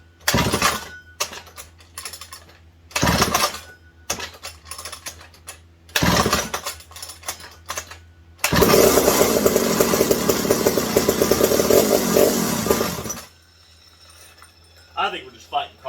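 A McCulloch 740 chainsaw with carburetor problems coughs through several short bursts of pull-starting, then catches and runs loudly for a few seconds before cutting out, with a brief voice afterward.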